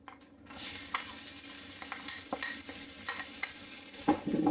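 Garlic cloves dropped into hot sesame oil in a wok for Thai street-food rad na, a steady close sizzle with light stirring scrapes and clinks.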